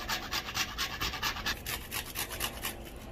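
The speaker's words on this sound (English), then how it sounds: "And I'm going to grate in the nutmeg." Whole nutmeg grated by hand while cooking peppered snail, brisk rhythmic rasping strokes close to the microphone, steady then slightly softer toward the end, with no talk.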